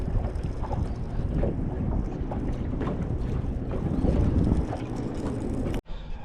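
Gusty wind of 10 to 15 mph roars across a fishing boat on the whitecapping Tennessee River, a loud, continuous buffeting rush against the microphone that cuts out abruptly near the end.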